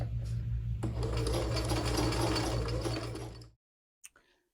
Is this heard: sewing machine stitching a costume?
yes